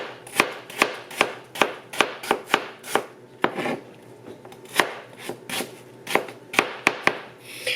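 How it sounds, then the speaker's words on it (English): A kitchen knife chops through an onion on a cutting board, with sharp, rapid knocks in uneven bursts, loud and close, and short pauses between runs of cuts. "One day I will cut the onion without crying."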